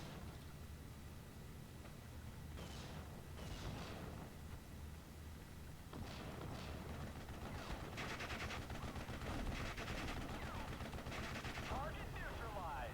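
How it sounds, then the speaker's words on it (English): Mortar and gunfire in Steel Division: Normandy 1944, a dense continuous din of shots and blasts running throughout, with bursts of rattling fire layered over a steady rumbling battle background. "Those mortars are missing the mark a little bit."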